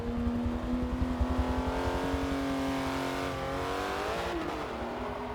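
A Porsche 911 GT3 RS engine revs high and hard on a race track, a loud sustained wail held close up, with a rapid low pulsing underneath and a brief dip in pitch near the end.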